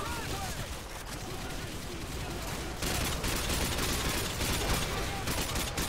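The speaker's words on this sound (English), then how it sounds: "I like the way that sounds. That's a good AK." AK rifle fire in the video game Call of Duty Modern Warfare 2 rattles out in a dense, continuous burst that grows louder partway through, with a voice talking over it.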